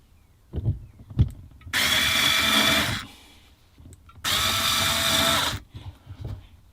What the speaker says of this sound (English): just pop the screws in, say just short screws so we're not coming out the top